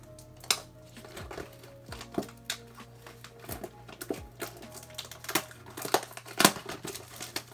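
Scattered crinkling, scraping and tearing of a football trading card box's cardboard packaging, irregular handling noises close by with brief pauses, no speech.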